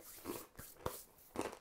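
Nuts are crunched between the teeth in a few short, crisp bites spaced over a second and a half, close and fairly faint, with no talking.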